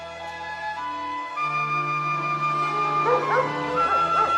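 A small dog gives short barks followed by rising whimpers and yips, heard close and clear over a sustained tonal background.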